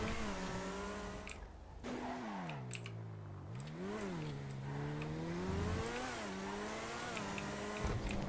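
Engine of a fast Vysser Neo sports car driving in the video game GTA 5 Online, a steady revving whine that climbs and dips with gear changes and occasional tire squeal, continuous and quiet.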